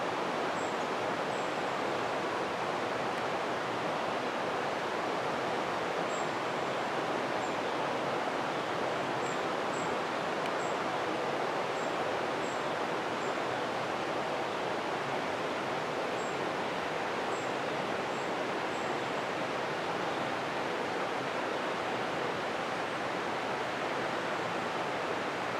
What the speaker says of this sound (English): I'm sure you guys can probably hear that creek